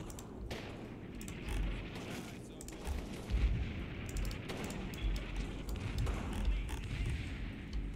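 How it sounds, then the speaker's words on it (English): Artillery fire in the Normandy war game Combat Mission: Battle for Normandy: a relentless barrage of heavy booms and thuds rolls on without pause, dense and rumbling, with scattered sharper reports over a constant low roar. "they are still going with that artillery. It's just not stopping."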